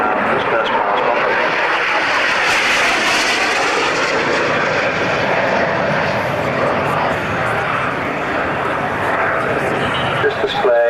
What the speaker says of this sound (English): The remarkable Rolls-Royce Pegasus vectored thrust engine, which makes the whole thing possible